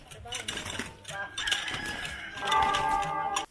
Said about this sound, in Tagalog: Kahit saan talaga may manok.